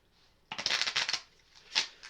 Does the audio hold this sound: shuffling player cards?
yes